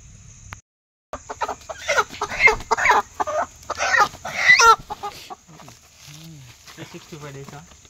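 A hen on a buffalo farm clucks in a run of short, scratchy calls, close by and mixed with people talking nearby.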